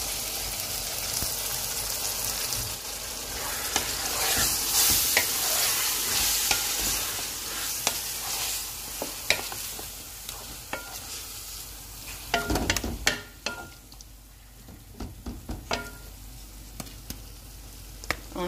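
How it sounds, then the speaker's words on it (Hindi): Marinated chicken added to golden-fried onions in hot oil in a karahi sizzles and hisses steadily, with scraping stirs and sharp clattering spoon knocks toward the end; no talking. "अभी हम इसमें मैरिनेटेड चिकन डाल देते हैं।"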